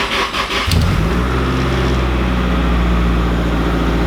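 A Nissan 240SX engine running in first gear with the car raised and the wheels spinning freely, a loud steady drivetrain drone that swells in after a brief burst of revving.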